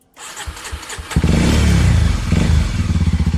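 A touring motorcycle on a road trip along the south coast of Gorontalo, Sulawesi, Indonesia, starts up close by and pulls away, the engine idling briefly and then revving into a loud, steady throbbing drone.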